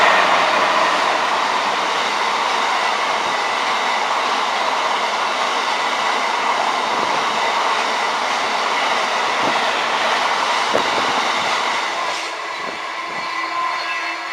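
A Class 66 freight locomotive, 66077, runs through Stevenage station with its wagons, giving a steady, loud rumble and rail noise throughout, with clicks from the wheels and a slight fade near the end.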